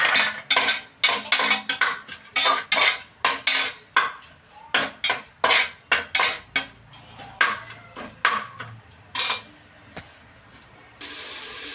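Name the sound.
tomatoes being mashed and stirred in a cooking pan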